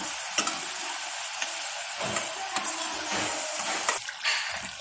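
Butter murukku deep frying in oil over a medium flame, a steady dense bubbling sizzle close up, with a few sharp clicks and scrapes of a utensil turning the pieces.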